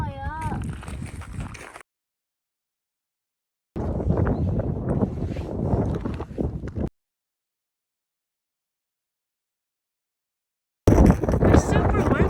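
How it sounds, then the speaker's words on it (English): Strong wind buffets the microphone at a volcano crater rim in Hawaii Volcanoes National Park on the Big Island. Loud roaring gusts come in bursts separated by sudden silent gaps, with voices heard at the start and end. "It's super windy."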